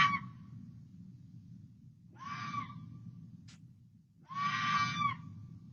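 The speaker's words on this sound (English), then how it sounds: "This is the sound of an immature great horned owl who is really, really hungry and is waiting for mom and or dad to bring it something to eat." A hungry immature great horned owl gives harsh, raspy begging screeches in a residential neighborhood, three insistent bursts a couple of seconds apart, moderately distant over a low background hum.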